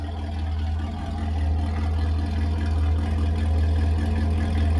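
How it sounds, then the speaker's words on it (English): A Pontiac G8 engine with a new high-stall torque converter idles steadily nearby, a low, even hum with a faint rhythmic pulse and no talking. "The new converter's in there. It's idling pretty good."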